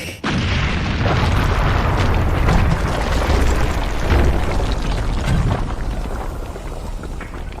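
Loud, continuous rumbling explosions from the Kingdoms of Amalur: Re-Reckoning action game on PS4, a dense roar of blasts with several swelling booms and no talk over it.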